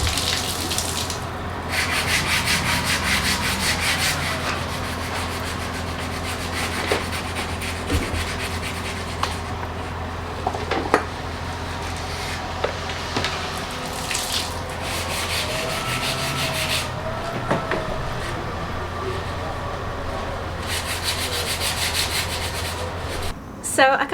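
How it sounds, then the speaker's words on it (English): Steady wet sanding on a catamaran hull, a continuous close rubbing and scraping that runs in long strokes with brief pauses and no talk. "I have wet sanded the entire hull."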